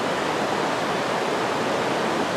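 Potato River Falls in Iron County, northern Wisconsin, pours as a steady broadband rush of falling water, loud and unbroken with no other sounds.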